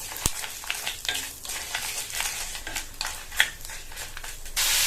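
Lentils and tamarind dry-roasting in a pan for chutney, a steady close sizzle with scraping stirs and occasional spatula knocks against the pan, no voices.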